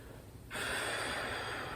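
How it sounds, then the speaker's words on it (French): A slow, audible breath during a gentle do-in self-massage: a quiet pause, then a long, steady airy exhale that holds to the end. "On accompagne avec la respiration, j'inspire, j'expire."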